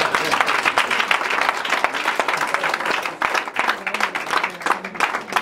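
A church congregation claps loudly and continuously in praise during a deliverance service, the dense applause punctuated by sharper individual claps, with a little crowd voice mixed in.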